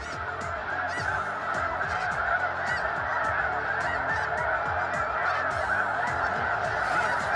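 A large flock of snow geese honks continuously overhead during a waterfowl hunt in Arkansas, a dense, loud chorus of overlapping calls with no voices.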